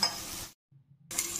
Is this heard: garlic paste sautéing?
yes